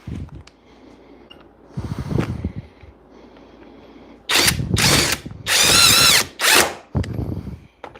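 A cheap high-torque power tool whirs in several short, loud bursts with a harsh metal-on-metal grind, set between quieter handling noises and pauses.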